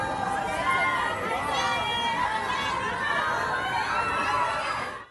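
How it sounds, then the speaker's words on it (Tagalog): Fans of the Filipino group SB19 shriek and cheer as the group arrives on tour in Canada. A dense, close crowd of high excited voices stays loud and steady throughout. "talaga namang agaw pansin ang hiyawan ng mga fans"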